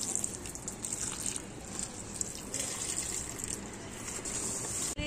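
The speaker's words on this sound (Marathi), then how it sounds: "चला मग झाडांना पाणी घालून घेऊया।" Water poured onto plants, a steady running splash and trickle, moderately close and continuous with no talking.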